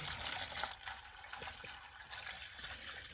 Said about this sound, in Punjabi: ਪਾ ਦਈਏ ਪਾਣੀ ਇਹਨਾਂ ਨੂੰ